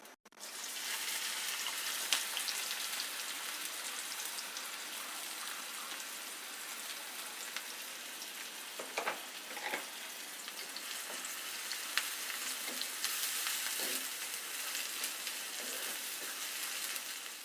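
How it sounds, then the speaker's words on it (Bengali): Two cups of chopped onion fry in half a cup of hot oil, a dense, even crackling sizzle like rain that runs steadily throughout after a brief clatter at the start, fairly quiet and with no talking. "তেলটা গরম হয়ে গেছে এখন আমি এর মধ্যে দিয়ে দিচ্ছি দুই কাপ পরিমাণ পেঁয়াজ কুচি"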